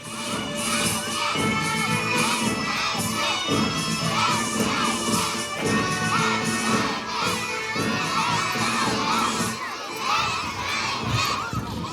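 Children at a junior school sports day march past shout and cheer loudly as a crowd, a dense, continuous roar of young voices that stays close and energetic throughout.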